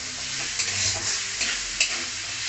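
Boiled chickpeas are stirred as they fry in a pan, giving a soft, steady sizzle with a few brief scraping strokes of the spoon.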